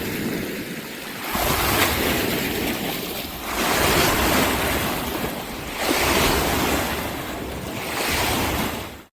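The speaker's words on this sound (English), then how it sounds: "a bunch of wave runner boats like this one that create a lot of waves" Waves from passing wave runners on Lake Powell wash in repeatedly in slow swells, a broad rushing surge rising and falling every couple of seconds, with wind noise and no voices.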